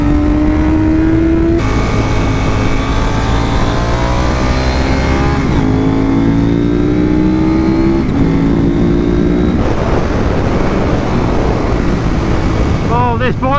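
A 1990s superbike at full throttle on a racetrack, its engine note loud and close as it rises through the gears with sharp shifts and a brief downshift near the end.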